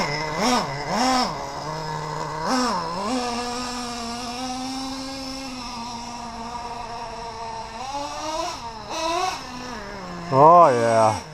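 A Traxxas Revo nitro RC truck engine runs outdoors in a yard, a buzzing two-stroke drone rising and falling with throttle blips, revving sharply near the end.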